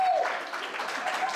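A crowd applauds with a dense patter of clapping, voices mixed in underneath, steady throughout the short moment.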